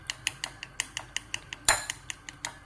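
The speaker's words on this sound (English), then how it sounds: "we're going to beat our egg" An egg being beaten in a bowl, quick steady clinks of a utensil against the bowl about five per second, fairly faint and close, with one louder knock partway through.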